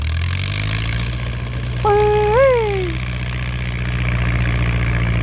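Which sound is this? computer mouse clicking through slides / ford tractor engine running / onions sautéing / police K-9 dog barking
ford tractor engine running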